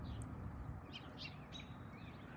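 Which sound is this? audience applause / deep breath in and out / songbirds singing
songbirds singing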